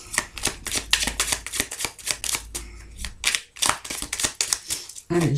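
Tarot cards are shuffled in bursts of rapid, crisp riffling and slapping, close and fairly loud, with brief gaps between runs and a soft thud near the end.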